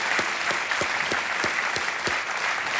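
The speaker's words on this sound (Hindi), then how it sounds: "एक बार फिर जोरदार तालियां बज जाएं" Studio audience applause at an Indian television quiz show, a steady dense wash of clapping from a large crowd, loud and continuous with no talking over it.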